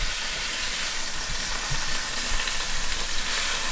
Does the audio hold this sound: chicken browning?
yes